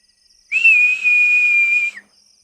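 A single steady whistle, clear and high, held for about a second and a half before cutting off, with near silence around it.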